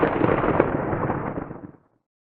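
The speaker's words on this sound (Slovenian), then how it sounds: "Nevihta je glasna." A single loud rumbling crack of thunder rolls for nearly two seconds before cutting off abruptly.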